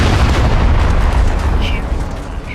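A heavy rumbling explosion of a tank being destroyed in the video game Tanks Blitz fills the whole moment, loud and continuous, slowly tapering off.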